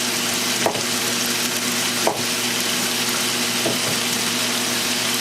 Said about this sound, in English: tempeh strips, pepper strips, onion strips that are sort of all the same size cooking down together